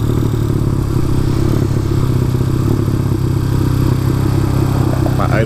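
A motorcycle engine with a 34mm carburetor idles high and loud close by, a constant rumbling throb with a little mechanical clatter that holds steady throughout with no talk.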